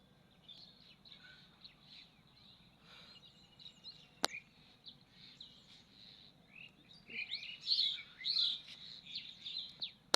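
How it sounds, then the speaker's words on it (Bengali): Birds chirp and tweet outdoors on a village morning, small scattered calls that are faint at first and grow busier and louder toward the end, with a sharp click partway through. "চারপাশে হচ্ছে পাখির কিচিরমিচির"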